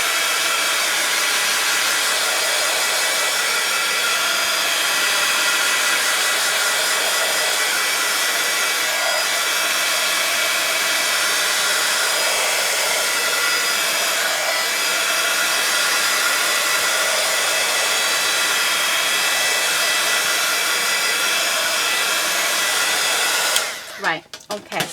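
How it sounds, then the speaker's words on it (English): Heat tool blasting a steady, loud, close roar of hot air to dry paper for a craft background, running continuously and alone until it clicks off at the end. "So let me grab my heat tool."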